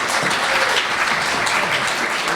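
Loud, dense audience applause as Advance NZ's Sharon Lyon is called to the stage, a continuous, even roar of many hands clapping without pause.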